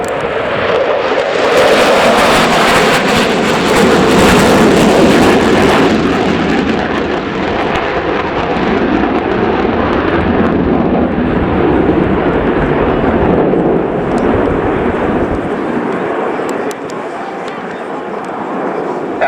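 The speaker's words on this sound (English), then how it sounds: "The two fighters flew in close formation, which means they fly less than 2 meters from each other" A pair of Dassault Mirage 2000D fighter jets in close formation flying past at the RIAT air show at Fairford, with a loud, broad jet roar that swells, holds, then slowly fades as the aircraft recede, a commentator talking over it.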